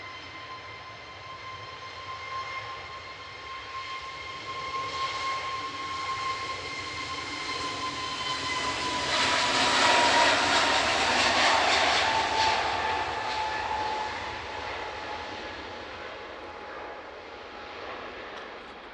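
Aircraft at Manchester Airport, a steady jet engine roar with a whine that swells to a loud peak midway and then fades, heard alone with no talk.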